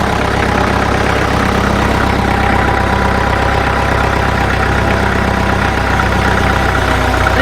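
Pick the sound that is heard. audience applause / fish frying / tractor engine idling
tractor engine idling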